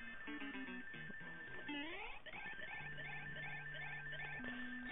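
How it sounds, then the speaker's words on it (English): The full-power run meter in the NES game Super Mario Bros. 3 gives off a rapid, steady high-pitched beeping that repeats insistently. It runs layered over the chiptune music and other game sound effects, with no speech. "that annoying beeping sound it makes for the full power to run"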